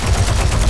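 Rapid SMG gunfire in a shooter video game, a loud, dense stream of shots filling a brief moment with no voices.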